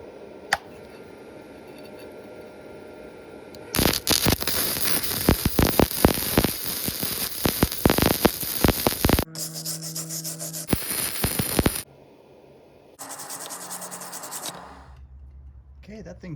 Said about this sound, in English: that thing deposited weld just fine with the wire feed process